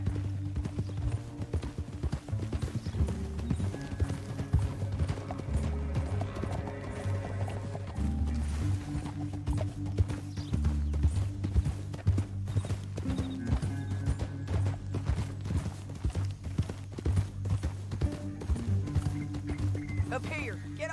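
Horse hooves clip-clop at a steady trot in Red Dead Redemption 2, repeating through the whole stretch beneath a continuous musical score, with an occasional whinny from the horse.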